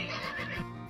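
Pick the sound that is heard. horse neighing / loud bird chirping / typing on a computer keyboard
horse neighing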